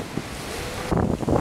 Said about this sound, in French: Il y a des belles vagues aussi.